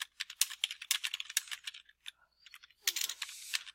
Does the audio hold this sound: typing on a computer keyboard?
yes